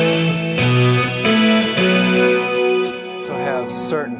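Electric guitar played lead through fuzz pedals into a high-powered twin-style amp, a thick distorted tone with sustained notes and bends in a steady phrase, loud and close with no talking.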